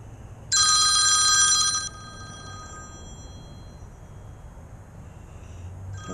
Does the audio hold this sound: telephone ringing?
yes